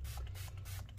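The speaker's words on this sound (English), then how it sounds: "I'm going to spray this" Quick squirts from a spray bottle of 50% isopropyl alcohol, soft hissing bursts heard close and faint over a steady low hum, several short pulses in a row.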